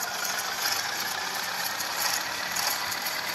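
Swaraj 963 FE tractor engine pulling a lowered rotavator in a farming video game: a steady, dense mechanical drone with a rattling texture, loud and continuous without pauses.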